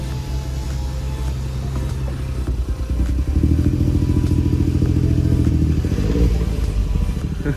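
A 2018-era MK7 Ford Fiesta 1.0L EcoBoost running rough after a clutch replacement: a close, loud, uneven engine drone with clattering, knocking and thuds as the car pulls away and the revs rise, with no voices over it.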